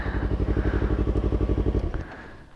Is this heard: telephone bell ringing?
no